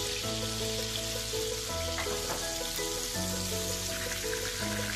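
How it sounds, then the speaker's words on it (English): Butter or ghee melting in a pan while making flax seed ladoo, a steady soft sizzle and crackle alongside a sustained low tonal hum, continuous and fairly close with no talking. "We'll just let the butter to melt."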